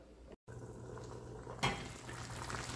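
Moringa drumstick fry cooking in a pan in a South Indian kitchen, a soft steady simmering sizzle with a small clink of cookware partway through, close and quiet with no talk.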